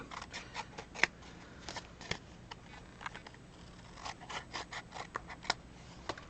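Scissors trimming the edges off scrapbook paper, a quiet series of short crisp snips and paper rustles in an irregular rhythm, close up with no talking.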